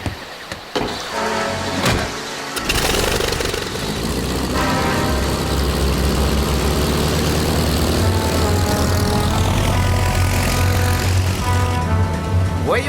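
Helicopter lifting off and flying, a loud steady engine and rotor drone that builds after a few seconds of clatter and then holds, continuous and close.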